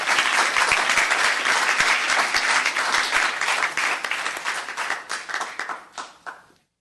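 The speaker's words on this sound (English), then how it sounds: "Let's give her another round of applause." Applause from the audience at a town council meeting, a dense sustained wash of many hands clapping that holds steady and then thins out and fades over the last couple of seconds.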